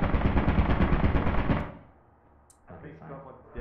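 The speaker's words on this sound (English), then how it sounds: "Maybe he was just rapidly banging on the wall because he was excited to be here." Rapid, heavy banging on a wall inside Lethal Company, a dense burst of loud thuds lasting about a second and a half, then breaking off into quieter rumbling and a brief soft knock.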